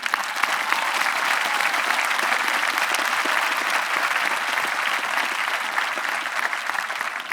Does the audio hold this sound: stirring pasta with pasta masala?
no